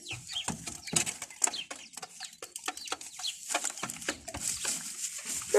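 Rooster and hens pecking at feed laid on a piece of cardboard, giving soft repeated clucks and scattered short calls close by, with intermittent scratching and pecking noises and no talk.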